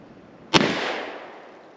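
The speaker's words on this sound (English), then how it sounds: ".16-inch barreled Rossi Winchester 1892 clone, 3 shots." A single sharp .44 Magnum shot cracks from a 16-inch Rossi Winchester 1892 clone lever-action rifle, followed by a short, fading outdoor echo.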